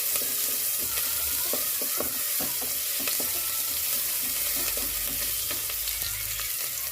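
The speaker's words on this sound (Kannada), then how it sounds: "ಇದು ಸ್ವಲ್ಪ ಫ್ರೈ ಆಗಲಿ." Mutton pieces frying in a pan for a Sunday non-veg recipe, a steady close sizzle with stirring scrapes and small clatters throughout, no talking.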